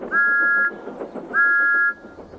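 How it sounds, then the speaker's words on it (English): Thomas the steam engine's whistle in the countryside: two clear, steady toots of about half a second each, loud and close, separated by a short gap with faint rumbling underneath. "Thomas's whistle sounds like this in the countryside."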